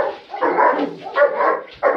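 A German Shepherd named Oscar barks in training, giving several close, loud, choppy barks and yips in an irregular rhythm.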